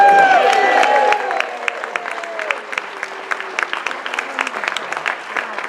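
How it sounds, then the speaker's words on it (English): Comedy show audience bursts into applause with some cheering, loud at first as a whoop trails off, then settling into steady, scattered clapping that carries on for several seconds. "That deserves applause right there."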